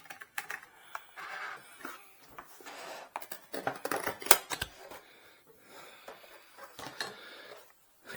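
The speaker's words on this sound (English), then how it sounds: "I think I might try scissors." Irregular crisp snips and scraping cuts as scissors work through thin wood veneer, arriving in uneven bursts with pauses between, close up and fairly quiet.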